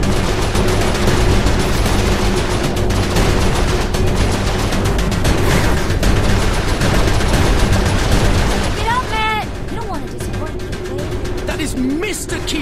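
Dense, continuous gunfire from the Saints Row 4 video game, sustained bursts layered under game music and effects throughout, with a voice talking over part of it.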